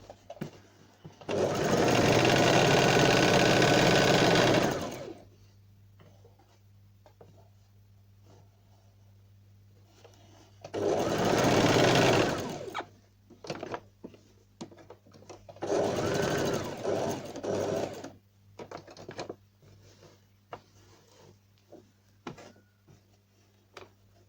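A sewing machine stitches fabric for a kurti neckline with piping and patch, running in three loud bursts of rapid mechanical whirring separated by quieter handling clicks and rustles, close up with a faint steady hum underneath.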